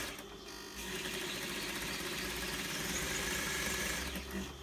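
A sewing machine runs steadily while stitching a cotton washable face mask, a close, continuous mechanical whir with fast rhythmic clatter that starts up after a brief quieter moment and runs on without talk.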